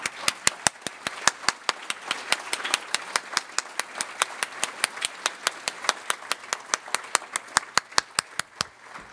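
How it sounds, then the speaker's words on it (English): Staff applause at a credit union's 2019 annual meeting: dense, steady clapping from a gathered crowd, sharp individual claps standing out over a continuous patter, lasting the full stretch at moderate loudness. "join me in giving Greg a really round of applause"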